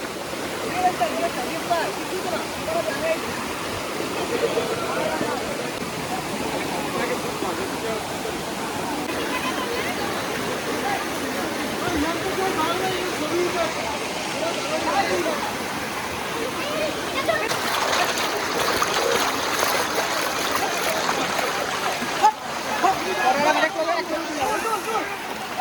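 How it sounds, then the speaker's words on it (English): Dumala waterfall in Tripura roars as a steady, broad rush of falling water heard from nearby, continuous throughout, with a crowd of people faintly audible in the background. "So now we are very close to that waterfall,"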